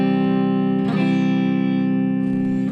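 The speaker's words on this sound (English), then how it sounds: "So let's start off with the neck pickup here." A Squier Bullet Strat electric guitar on its neck pickup plays clean through a Boss Katana amp with a little reverb, a sustained chord ringing out, then re-struck once before fading, with no talking.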